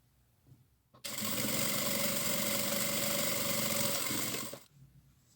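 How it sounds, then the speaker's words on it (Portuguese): Sewing machine stitching a top seam joining fabric pieces right sides together for a handmade wallet, a steady close whirring run of about three and a half seconds that starts and stops abruptly, with no talk. "eu vou unir frente com frente e fazer uma costura na parte superior"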